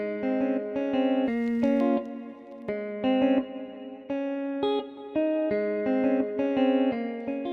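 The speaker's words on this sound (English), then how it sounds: "Now let's just add some reverb." Electric guitar phrase from a beat production with reverb added, clean sustained chords and notes in a slow rhythmic pattern, each ringing out with a smooth tail, no talking.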